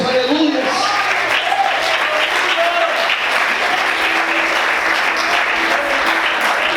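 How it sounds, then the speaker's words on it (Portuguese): Congregation applauding in praise during a church sermon, a steady full wash of clapping from a large crowd that runs the whole time, with faint voices mixed in. "Você pode aplaudir e exaltar a Deus"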